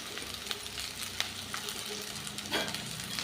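Finely chopped ridge gourd frying in hot oil for a chutney, a continuous close sizzle with a brief louder burst of stirring toward the end.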